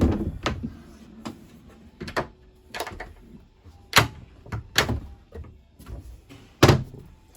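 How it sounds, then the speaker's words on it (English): A pull-out pantry in a 2020 Sunseeker 3050 motorhome slides open and shut, giving a run of scattered knocks, soft thuds and clacks, a few of them sharp and loud, with no voices. "A little pantry space here, so as you open that up, it just slides on out."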